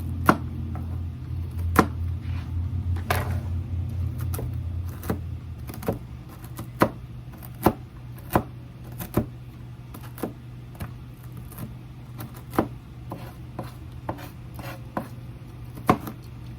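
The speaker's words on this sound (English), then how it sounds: "you just kind of want to rough chop them" Knife rough-chopping peanut butter oatmeal cookie ingredients on a board, a steady run of sharp, close taps repeating roughly every half second to second over a low background hum, with no talking.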